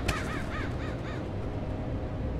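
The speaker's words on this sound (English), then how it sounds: "Oh, the birds made the sound." Several crows caw in quick succession in the stealth video game Mark of the Ninja, a short burst of harsh calls over a dense, steady game ambience.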